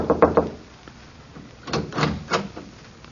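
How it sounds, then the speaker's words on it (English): Three quick knocks rap on an apartment door at the start of an old-time radio drama scene, followed by softer shuffling and movement sounds. "I knocked on the apartment door."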